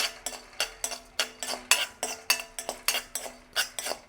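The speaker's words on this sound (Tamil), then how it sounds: "ஏலக்காயையும் சாதுவாக வறுத்தெடுக்க வேணும்" Cardamom pods dry-roasting in a pan for nut balls, a quick, regular series of scraping spatula strokes against the metal, about three per second, close and fairly crisp with no talk.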